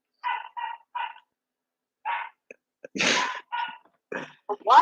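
A dog gives a string of short, sharp barks in quick bursts separated by pauses, with a voice briefly mixed in among them.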